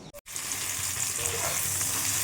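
Whole garam masala, dried red chillies, bay leaf, onion and tomato frying in hot oil in a home kitchen, giving a steady, close, dense sizzle after a brief clatter at the start, with no talking.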